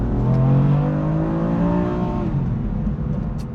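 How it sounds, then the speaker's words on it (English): A Volkswagen Golf R-style sports car with 431 horsepower, set to Sport Plus mode with the exhaust valve open, gives a loud, steady, deep engine and exhaust drone. The note revs smoothly and shifts slightly partway through, heard up close with no talking. "you actually do want to hear your exhaust sound"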